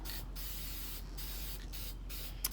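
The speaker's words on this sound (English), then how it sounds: "So always making sure that you spray even coats all the way around." An aerosol spray can hisses in repeated bursts as paint goes onto an upcycled flower pot outdoors on a cold, windy day, with short gaps between the sprays.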